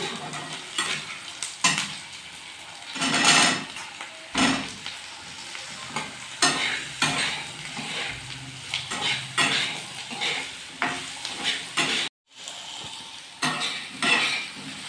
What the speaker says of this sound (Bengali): পেঁয়াজগুলো ভাজা হয়ে গেছে এবার আমি দিয়ে দেবো আলু